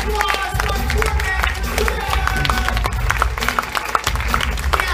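Audience at a live kids' event breaking into applause and cheering, a dense steady wash of clapping and crowd noise with voices mixed in.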